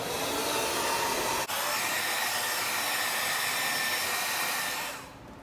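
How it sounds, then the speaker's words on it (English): Hair dryer blow-drying curly hair during a keratin salon treatment, a loud steady airy roar with a brief dip early on, fading out near the end. "So let's get to the blow dry."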